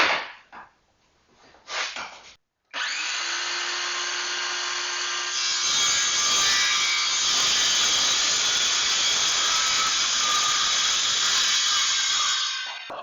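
Circular saw ripping through a plywood sheet, loud and close: a couple of brief spin-ups, then a long steady whining cut with a gritty rasp that grows harsher midway before ending.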